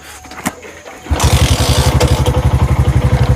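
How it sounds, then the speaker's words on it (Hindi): Motorcycle kick-started on a single kick in a hill village: a couple of kick thumps, then the engine catches and settles into a loud, steady, throbbing idle close by. "तो बाइक स्टार्ट करता हूँ, एक ही किक में स्टार्ट हो जाती है भाई"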